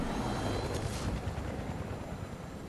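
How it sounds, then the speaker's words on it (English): A helicopter in the Fortnite video game whirs with a dense, steady rotor thrum, loud and close throughout a brief stretch. "Go to the helicopter and start it."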